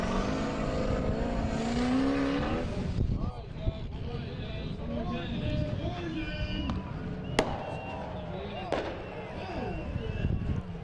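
An off-road race vehicle in an EFI shootout revs and throttles hard, its engine surging and wavering, with sharp pops and bangs cutting through. Commentary runs over it throughout.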